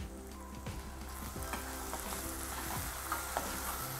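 Chopped onions fry with spices in a pan for a paneer butter masala, giving a steady close sizzle with soft stirring scrapes throughout and no voices.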